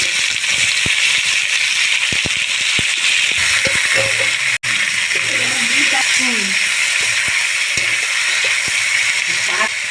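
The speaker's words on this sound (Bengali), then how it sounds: "পেঁয়াজ আর টমেটোটা আমি ভাজিয়ে দেবো" Onion and tomato frying in a pan of oil with bay leaves, a steady broadband sizzle running throughout with occasional stirring clicks, close and loud.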